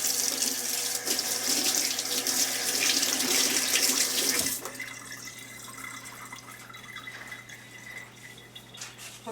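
A kitchen tap runs strongly while a hand is rinsed, a loud steady hiss of water that suddenly drops to a quieter trickle about halfway through, close up and with no talking.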